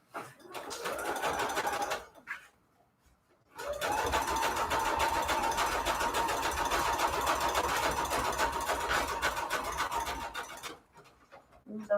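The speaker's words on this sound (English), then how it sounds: "so zigzag stitch, longest, widest that it goes" A sewing machine runs a long, wide zigzag stitch through a junk journal signature, whirring steadily and close up for about eight seconds after a short burst and a pause.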